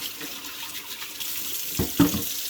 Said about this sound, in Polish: można go oczywiście od czasu do czasu wraz z elementem środkowym i filtrem umyć pod wodą